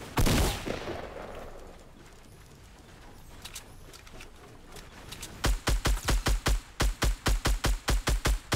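Gunfire in the video game Fortnite: a loud opening blast is followed by scattered distant shots, then a fast, steady burst of about fifteen close, evenly spaced rounds.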